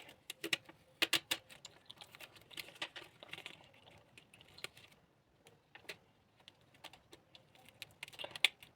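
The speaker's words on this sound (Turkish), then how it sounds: "Biraz biraz bantları çıt çıt çıt, çıt kesiyoruz." Sharp, quiet clicks and snips in irregular bursts as small pieces of tape are cut one after another while making a handmade advent calendar, close by with no talking.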